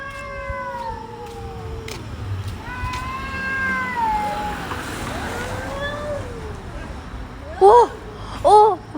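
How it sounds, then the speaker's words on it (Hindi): A cat meows repeatedly, long drawn-out cries rising and falling, with two short sharp meows near the end over faint background noise. "बिल्ली ना यहाँ पे रो रही है"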